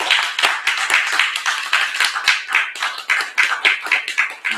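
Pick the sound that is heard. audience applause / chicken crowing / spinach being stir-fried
audience applause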